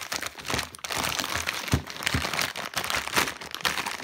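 Crinkling of a plastic bag holding frozen mild barbecue chicken wings, handled up close with steady rustling and crunchy bursts for about four seconds, no talking.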